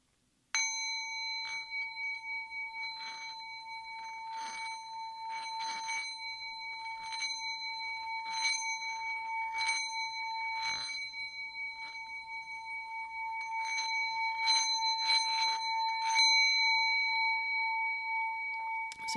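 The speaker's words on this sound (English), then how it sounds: "So I strike the bowl and then I drag the tool." A singing bowl struck and then rubbed with a small wooden mallet gives a sustained, ringing metallic tone with clear overtones, steadily building in loudness, with faint scraping taps from the mallet along the rim.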